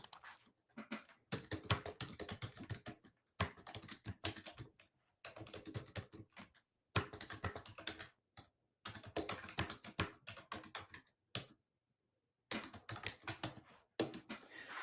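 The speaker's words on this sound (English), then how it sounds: "So I'm typing this in to ChatGPT" Rapid bursts of typing on a computer keyboard, close and crisp, in irregular clusters separated by brief pauses, with no talking.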